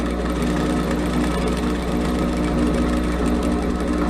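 A sewing machine stitches a flap pocket with a continuous, fast, even mechanical hum and rapid needle clatter, close and steady throughout without pause.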